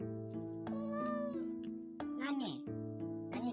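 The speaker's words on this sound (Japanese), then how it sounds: "やっとミャーってなんか猫っぽい声聞こえたわ。" A cartoon cat in the horror game Cat Simulator gives several quick, high meows in a row, some clipped and one drawn out, over soft game ambience.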